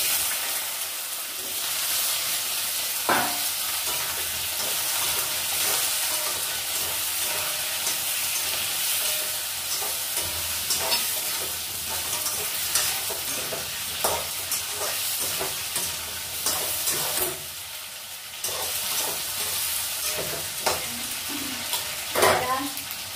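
Potato and tomato frying in a pan, a constant loud sizzle with occasional scraping stirs and clinks close by.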